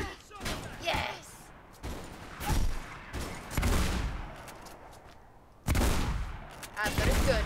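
Gunfire in Mirror's Edge, repeated bursts of shots and automatic fire at close range, with a player's voice talking over some of the action.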